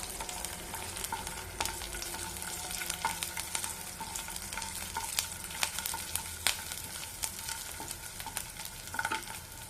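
Green tomato chutney frying in a pan over low flame, a steady close sizzle broken by repeated scraping strokes of a spoon stirring, with no one speaking.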